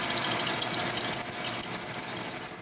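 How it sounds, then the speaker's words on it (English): A metal lathe runs as a center drill cuts into a metal part, giving a steady machine whine with high ringing tones and a faint rhythmic chatter that picks up partway through. "So I'm gonna center drill it, and I'm gonna tap drill it"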